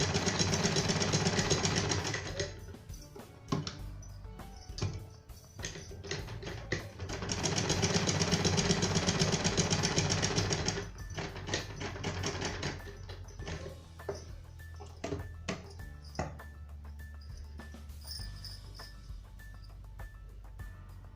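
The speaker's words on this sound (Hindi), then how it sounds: "इस तरह से हम अपने चारों डॉट पर सिलाई लगा लेंगे" A sewing machine stitches tucks on a belt blouse in bursts, loud rattling runs separated by pauses and softer intermittent clicks, recorded close up.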